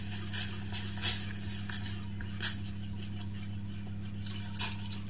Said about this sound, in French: On remue le tout pour pas avoir de grumeaux.